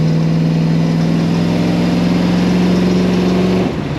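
1969 Dodge Charger 440 R/T restomod V8 accelerating on the road, a loud close engine tone climbing steadily in pitch for several seconds before dropping off as the throttle lifts, no voices.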